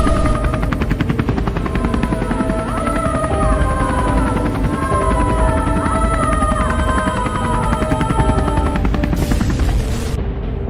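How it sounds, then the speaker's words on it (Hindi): A cartoon helicopter being brought down by magic gives off a loud, continuous rapid rotor chop with a whining engine tone, steady and close for about nine seconds before cutting off abruptly, with no voices. "गुल्ली जैसे ही हेलीकॉप्टर उड़ाता है और थोड़ा ऊपर जाता है"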